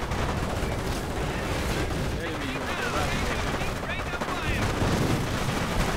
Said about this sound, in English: sector artillery is in